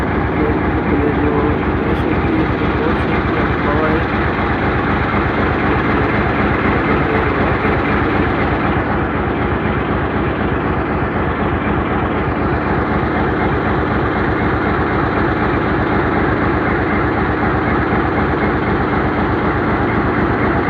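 A train hauled with a second locomotive engine rumbles through the Bolan valley, a loud, continuous heavy engine drone with rhythmic wheel clatter on the rails, steady and close throughout.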